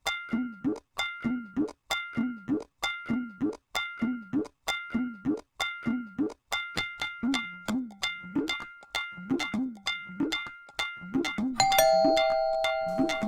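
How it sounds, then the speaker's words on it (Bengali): An electric calling bell rings over and over at home, a steady series of sharp two-tone electronic chimes with a brief sustained tone near the end; no talk. "এই বোধহয় কেউ কলিং বেল বাজাচ্ছে।"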